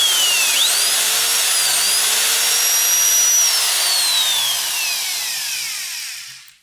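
A power drill bores through a wooden kitchen door, its high motor whine climbing and shifting pitch as the bit bites, loud and close for several seconds before spinning down and trailing off.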